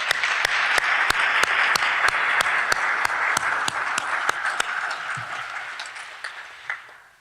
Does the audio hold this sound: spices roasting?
no